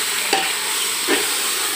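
Minced meat (keema) being stirred in a kadhai, a continuous loud sizzle with two soft scraping strokes of the spoon, close and without voices.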